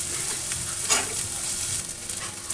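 Tender young radish frying in a pan over a high flame, a steady loud sizzle close up with brief stirring scrapes, no voices.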